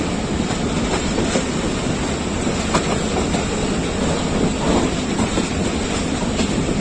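Baba Farid Express passenger train running on the rails in Pakistan, heard from on board as a loud steady rumble with rhythmic clickety-clack of the wheels over track joints.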